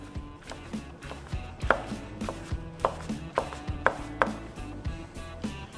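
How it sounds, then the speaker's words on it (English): A knife chops through pulled hickory-smoked chicken with skin and large chunks in a bowl, giving about a dozen sharp, close strikes in an irregular rhythm over a low background hum. "I'm gonna hit it just with my knife just a little bit."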